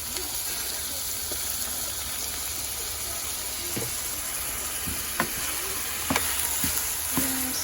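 Rice seasoned with low-sodium soy sauce sizzles steadily in a pan while a utensil stirs it, a constant hiss broken by a few scraping clinks near the end.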